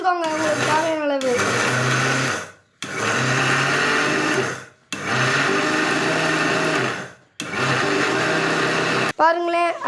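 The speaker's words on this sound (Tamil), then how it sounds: "மிக்சியில் எடுத்து அரைச்சிக்கோங்க உங்களுக்கு தேவையான அளவு." A mixer grinder pulverizes dry ginger and sugar in four loud, steady grinding bursts separated by short silent pauses, with a brief voice at the start and end.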